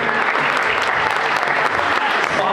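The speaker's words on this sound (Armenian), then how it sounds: "ուզում եմ մի հատ բարձր ծափեր հնչեցնենք էլի նրանց համար" Loud applause at a christening and first birthday party, a crowd clapping hard and continuously from start to finish, full and close.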